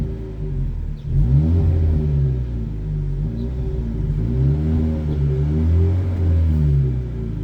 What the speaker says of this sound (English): So I just got my new exhaust installed.